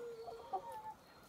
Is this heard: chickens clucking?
yes